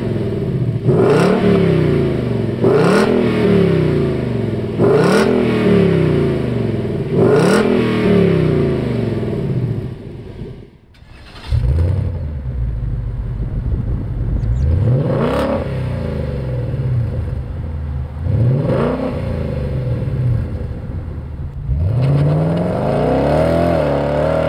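A 2018 Ford Mustang GT with a Ford Performance Touring cat-back exhaust revs repeatedly, several sharp rising blips that fall back to idle, a brief drop in sound, then deeper, longer revs close by.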